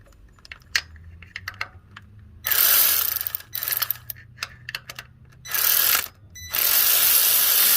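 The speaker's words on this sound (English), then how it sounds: "You'll need a 6mm Allen socket, and then you'll take out the bolt right below it." A ratchet fitted with a 6mm Allen socket removes a tensioner bolt during water pump work on a 5.7 liter Toyota Tundra, giving several loud bursts of rapid clicking separated by quieter handling clicks, close up.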